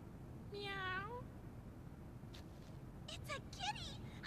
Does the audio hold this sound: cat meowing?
yes